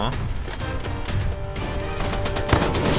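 An M60 machine gun fires in a video game, a loud, fast continuous rattle of shots with a sharper impact near the end, while a player talks over it.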